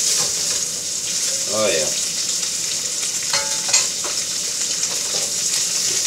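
Rockfish fillets sear in a hot pan with a steady, loud sizzle, and the fish is flipped partway through, briefly shifting the frying sound; a voice speaks briefly.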